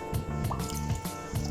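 Water is poured by hand from an aquarium tank into the open canister of an RS Electrical external filter, giving irregular near drips and splashing liquid, with low hum and faint voices underneath.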